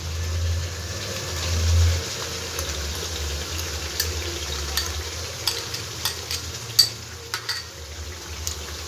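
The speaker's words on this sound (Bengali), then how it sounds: "ভালো করে এবার সম্পূর্ণ মশলাগুলো ভেজে নেব আমি" Spice paste for jackfruit dalna fries over a medium gas flame, with a continuous sizzle, a low rumble early on and scattered scraping stir clicks toward the end.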